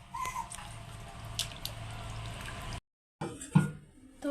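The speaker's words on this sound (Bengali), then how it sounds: "চিপে তুলে নিচ্ছি যাতে জল না থাকে।" Washed raw meat being squeezed by hand in a home kitchen, giving wet squelching and dripping water sounds close up, with a short silent gap before a louder wet squish near the end.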